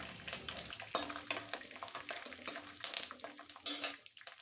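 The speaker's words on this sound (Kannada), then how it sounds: "ಮೀಡಿಯಮ್ ಫ್ಲೇಮಲ್ಲೇ ಇಟ್ಟು ಇದನ್ನು ಫ್ರೈ ಮಾಡ್ಕೊಳ್ಳಿ." Dried red chillies and curry leaves frying for a tempering over a medium flame, a soft crackling sizzle with frequent spoon stirs and pan clinks, fairly quiet and close.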